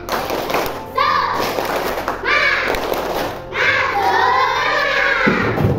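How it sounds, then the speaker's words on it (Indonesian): Standing schoolchildren in a classroom perform a rhythmic 'tepuk semangat' clapping chant. Loud group claps and thumps come in bursts, mixed with their shouted chanting voices. "Tepuk semangat."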